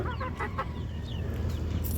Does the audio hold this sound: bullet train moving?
no